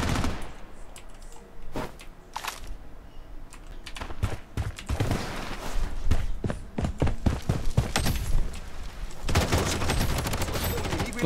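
Gunfire in the free PC first-person shooter Blood Strike, with bursts of rapid automatic shots and single sharp cracks in clusters, growing denser toward the end, loud and close.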